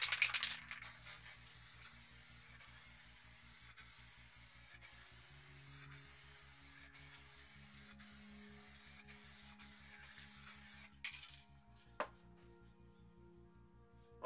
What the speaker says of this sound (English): we're going to get the black crackle paint and we're just going to spray straight over the top